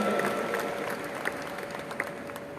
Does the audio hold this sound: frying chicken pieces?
no